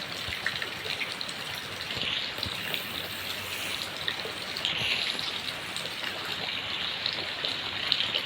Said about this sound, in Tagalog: Sorry guys, so maingay kasi umuulan dito eh.